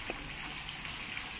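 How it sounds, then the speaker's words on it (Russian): Steady rushing water from a small waterfall in a park after rain, a continuous broadband gush heard fairly close, with no talking over it. "Водопад."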